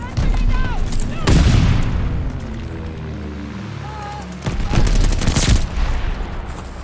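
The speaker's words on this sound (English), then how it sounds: "Teammate called a bombing." Bombing run airstrike in Call of Duty Vanguard multiplayer, with heavy booming blasts and bursts of gunfire rumbling loudly in two waves, under game announcer voice lines.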